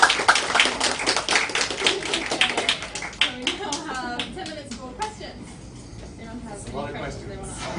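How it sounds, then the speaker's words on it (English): A workshop audience at an AcroYoga introduction claps in a brisk burst of individual, fairly close handclaps that thin out after a few seconds, giving way to people talking. "We just have one more round of applause for these guys."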